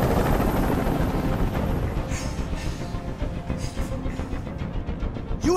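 Police helicopter hovering over a rooftop hostage standoff in the video game Detroit: Become Human, a steady loud rotor thrum with rhythmic chopping pulses underneath, continuous and close.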